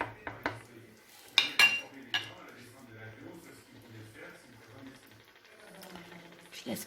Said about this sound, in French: Je mélange juste le blanc, pas le jaune.